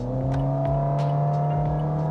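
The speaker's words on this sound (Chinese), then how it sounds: "我们就试下这台车如果是要加速的话感觉会如何" Toyota Yaris G-Limited accelerating in sport mode, heard from inside the cabin as a loud, steady engine drone with rising tonal hum, continuous and close, no talking.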